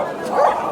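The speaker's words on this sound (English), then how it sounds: "Dogs barking again" Dogs bark and yip at a busy outdoor vintage market, a short burst of barking rising briefly over steady crowd murmur.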